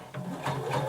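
A sewing machine stitches a garment bodice up to a marked dot and backstitches, a brief close mechanical whir with a rapid rattling rhythm.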